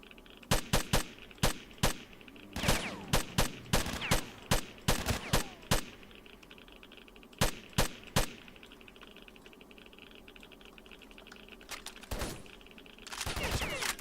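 Gunfire in the shooter game STALKER: Shadow of Chernobyl: sharp, loud shots in quick bursts and irregular volleys, then a quieter lull before a final dense cluster of shots.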